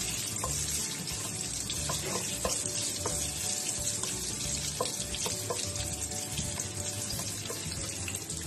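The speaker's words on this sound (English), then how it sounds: "igigisa lang natin siya hanggang sa lumabas yung bango ng ginger, mandarin peel at saka star anise" Ginger, mandarin peel and star anise sauté in a hot pan as the base for a wine-scented pork belly braise. A continuous close sizzle is joined by faint, intermittent clinks.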